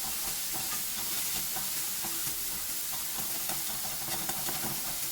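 Onions stir-frying in a pan over high heat, a steady close sizzle and hiss with faint scraping stirs running throughout, no voices.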